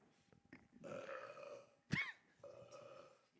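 A loud, abrupt burp erupts close by, surrounded by low, murmuring voices.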